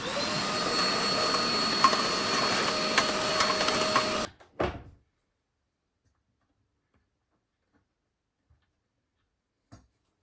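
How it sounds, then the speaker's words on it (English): Electric saw in a workshop running steadily and loud with a dense whining drone, then cutting off abruptly, followed by a brief clatter and near silence with a couple of faint knocks. "Get the saw plugged in, and let's do this."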